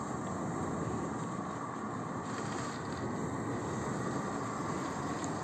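A 2019 Regner Chaloner live steam model locomotive gives off a steady, continuous hiss, close and fairly loud, with an unbroken even texture and no voices.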